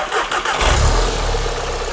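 An old Jetta with a swapped-in MK7 GTI engine and its ABS module unplugged cranks briefly and catches, firing up into a loud, close, rumbling idle.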